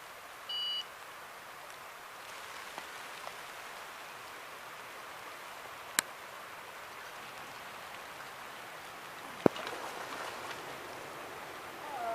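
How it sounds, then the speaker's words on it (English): Light rain patters on a fishing bivvy during a Dartmoor pike session, a soft, faint, steady hiss with scattered drop taps and a couple of brief electronic beeps cutting through. "It started to rain,"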